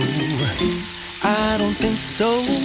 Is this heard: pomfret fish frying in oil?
yes